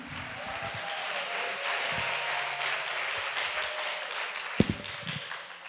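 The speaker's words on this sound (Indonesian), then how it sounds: "Tepuk tangannya dong buat Allah Yunus" An audience at an Islamic boarding school student discussion applauds a speaker, with moderate sustained clapping at some distance and a few sharper thumps near the end.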